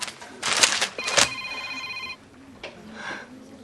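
A mobile phone rings indoors during a British soap scene, bright repeating tones lasting a couple of seconds amid background voices and noise, then fading out.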